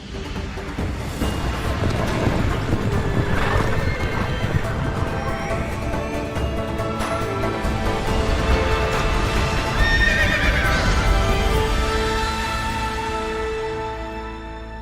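A Genshin Impact game effect of horses galloping: dense clip-clopping hooves under a steady wash of noise, with whinnying neighs rising above it and loud throughout.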